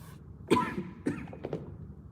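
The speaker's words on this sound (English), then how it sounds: "Got a little cough going" A person's cough, made while speaking casually at home, comes as two or three short, fairly close bursts with quiet room noise between them.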